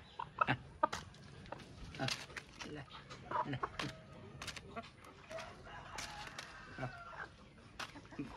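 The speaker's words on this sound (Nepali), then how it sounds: "कति कति सुबानी कुखुराहरू" Chickens cluck and squawk in scattered, quiet bursts around a feeding spot, with a person talking to them in between.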